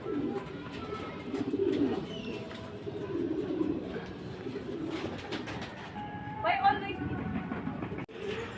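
Racing pigeons coo and call during a pigeon race arrival, with soft low cooing through the first half and a sharper bird call near the end, mixed with people talking.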